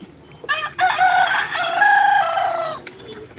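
A rooster crows once, loud and close, in a single long strained call over faint farmyard background noise.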